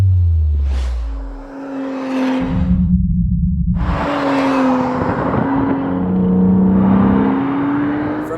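An Acura NSX hybrid sports car with all-wheel drive accelerates and drives past, a steady loud engine drone with rising and falling tones, whooshing passes and a deep rumble, with no talking.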